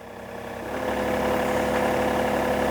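Engine of a Marini MR C20P microdrilling rig runs steadily, a close droning hum that swells in load and pitch after the first second, then holds level and loud.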